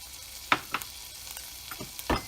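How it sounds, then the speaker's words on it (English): Ginger, garlic, chili flakes and chopped chili sautéing in a pan, a faint steady sizzle broken by a few sharp spatula scrapes and taps, with nobody talking. "now I'm going to saute the ginger, the garlic, the chili flakes, the chopped chili"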